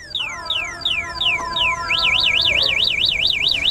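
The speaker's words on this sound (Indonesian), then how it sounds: "Otomatis sepeda listrik Ledo ini ketika ada orang yang mau membawa, jadi dia akan berbunyi seperti ini." Anti-theft alarm of an Ofero Ledo electric bicycle, a loud electronic siren that starts with a run of falling chirps and then switches to a rapid rising-and-falling wail, close by and alone.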